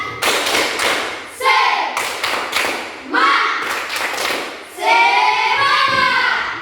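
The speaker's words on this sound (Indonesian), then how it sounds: "Tepuk semangat." A group claps in a chanted rhythmic pattern, sharp synchronized bursts of hand claps alternating with children's voices calling out the chant between them.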